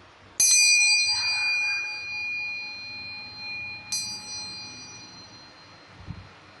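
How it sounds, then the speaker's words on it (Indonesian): A bell is struck once, ringing out clear and bright before slowly fading, then a second lighter strike rings again a few seconds later. "saya akan melanjutkan lagi dengan tanda lonceng berbunyi"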